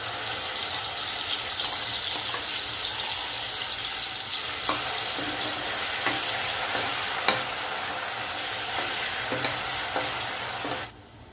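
Ground masala paste sizzles and spits in hot oil for chicken pulao, a loud, continuous fry with scattered crackles and the occasional scrape of stirring, then cutting out abruptly at the end.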